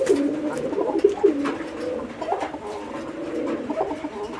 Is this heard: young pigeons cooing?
yes